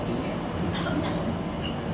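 Unrefurbished Tyne and Wear Metro train 4083 standing at St James station, a steady loud rumble of motor and ventilation noise that fills the whole stretch with no breaks.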